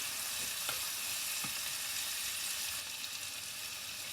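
Sardines sauté in a hot pan, giving a steady close sizzle and frying hiss with a couple of faint stirring clicks.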